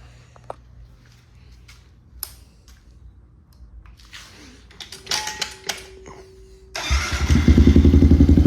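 A Kawasaki KLX110 pit bike is started after a few faint clicks and pokes of the controls; the single-cylinder engine catches near the end and settles into a loud, close, steady idle.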